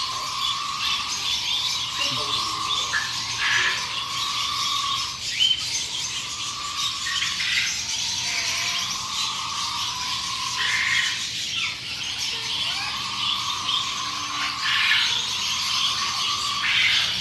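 A pet bird at a bird expo keeps up a steady series of high chirps and squawking calls over constant crowd and hall noise, moderately loud throughout.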